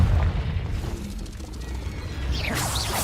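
In the video game Hogwarts Legacy, a Confringo spell explosion lands as a deep boom with rumbling debris and magical crackle, followed by whooshing spell effects, loud and close.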